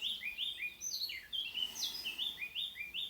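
Several small birds chirp and tweet in quick, repeated high-pitched phrases, bright and fairly close, continuing throughout with no talking.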